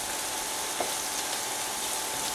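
Onions sautéing in a pan give off a steady, even sizzle throughout, close and continuous, with only a faint clink near the start.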